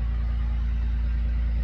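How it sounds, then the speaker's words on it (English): A truck engine idles steadily in cold weather while warming up, a low, even rumble that holds without change, close by and alone with no voices. "Alright, sorry about the noise. My truck's warming up."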